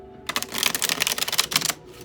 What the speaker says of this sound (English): We're going to shuffle the decks